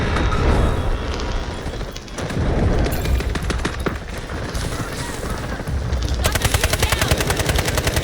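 Video-game gunfire in a multiplayer shooter: rapid bursts of automatic fire and booming shots, loud and close, ending in a sustained fast machine-gun stream, with players talking over the action.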